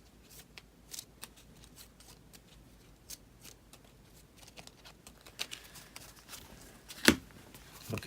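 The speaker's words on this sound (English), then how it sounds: "And for Gimli, we'll shuffle his deck." A deck of cards for Gimli in the LOTR Journeys in Middle Earth board game is shuffled by hand, with close, irregular riffling taps and flicks and one sharp slap near the end.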